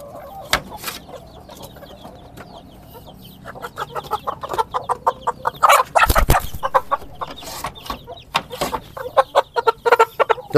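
Chickens recovering from colds after being given White Rabbit candy cluck steadily nearby. Busy, overlapping clucks and calls build up and grow denser and louder through the second half, with a heavy thump partway through.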